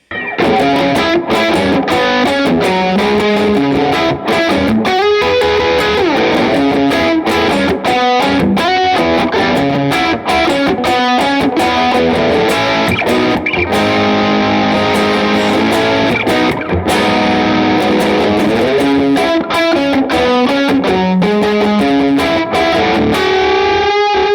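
Electric guitar played through a Cornerstone Imperium dual overdrive pedal with the Antique stage feeding the Gladio, giving a loud, continuous distorted tone with sustained chords and melodic runs throughout, no talking.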